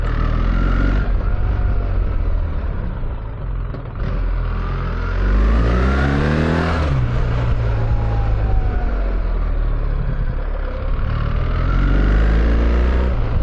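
A BMW R1300GS motorcycle fitted with a QD exhaust rumbles with a steady engine burble and rises and falls through revs, easing into overrun crackle. It is close and loud throughout, with no talking.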